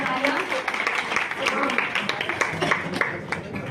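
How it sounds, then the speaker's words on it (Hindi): An audience at a Diwali event applauds, giving dense, steady clapping close by that lasts the whole stretch, with voices mixed in. "मेरे प्रिय साथियों को एक बार फिर से जोरदार तालियां"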